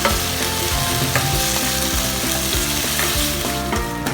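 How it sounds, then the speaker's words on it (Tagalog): Sardines sautéing in hot oil in a home kitchen, a steady dense sizzle throughout with faint rhythmic clinks and stirring knocks from the pan, close and continuous with no talking. "Igisa na po natin at i-adjust natin yung oil para tunog-tunog naman."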